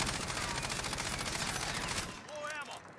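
Rapid rifle fire from a gun fitted with a VLK 3x optic in the shooter game Warzone, loud continuous bursts for about two seconds, then cutting off into a quieter tail with brief ringing tones.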